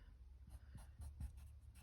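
A pencil scratches as it colours in a small circle on a drawing of an owl. Quiet, close, steady scribbling strokes with a soft rhythmic texture and no talk.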